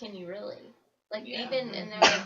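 A sneeze bursts out once near the end, close and loud, cutting across people talking in a casual group discussion.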